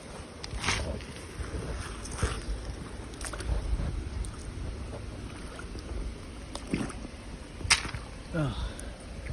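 A steady broadband rush of water from a small waterfall on a creek, heard throughout a creek walk, with faint wind and a few brief knocks and scuffs on top.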